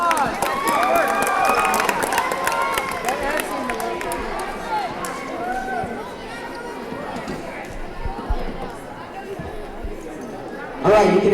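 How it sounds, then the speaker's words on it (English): Classroom applause as a room of students claps and cheers together, dense and lively at first, then thinning into chatter and scattered claps before a brief final burst. "Give him a round of applause."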